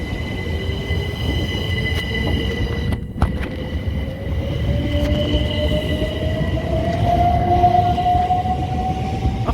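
A British Rail Class 377 electric train bound for Horsham rumbles past at close range, wheels clattering with a rising motor whine and faint wheel squeal over a steady loud roar.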